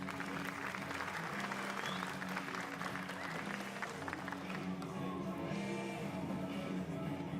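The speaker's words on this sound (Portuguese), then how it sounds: "Palmas para ele." An audience at an OpenStack Days São Paulo cloud infrastructure panel applauds a panelist, a steady wash of clapping that stays even throughout, with a faint low hum underneath.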